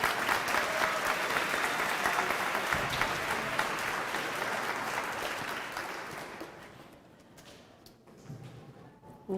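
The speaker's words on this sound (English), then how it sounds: "Let's give them another round of applause for being so great." Sustained applause from an audience of elementary school students and families at a school dedication, loud and even for several seconds, then fading to a sparse patter and a few final claps.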